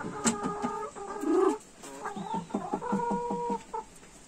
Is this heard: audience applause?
no